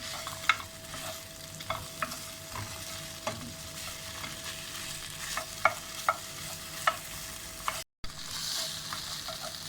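Pepper paste and tomato paste frying in a pan for a meat türlü stew, a soft continuous sizzle broken by a few sharp spatula scrapes and taps, with one brief dropout near the end.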